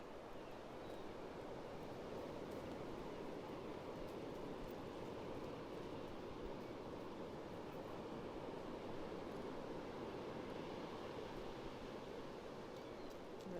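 Steady ocean surf washing onto Pawleys Island beach on a cool morning with the tide coming in, a continuous broad roar of breaking waves filling the whole stretch with no voices.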